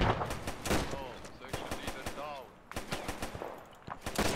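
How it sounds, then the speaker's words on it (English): Rapid bursts of gunfire crackle through a video game battle set in a WWII Dieppe raid, with repeated sharp shots and automatic fire spread across the clip while voices talk over it. "You're getting shot at, I can't see."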